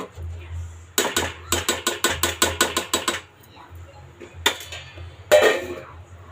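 Pulao being mixed in a pot before the lid goes on: a quick run of sharp, rhythmic metal scrapes and clinks from a spoon against the pot, then a pause and a couple more clatters.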